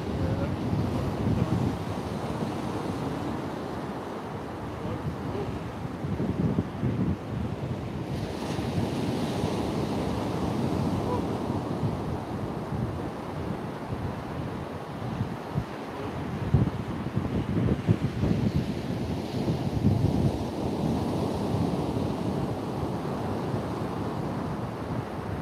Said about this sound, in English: wind is pushing in. Yeah, it's nasty. They're saying 40 mile an hour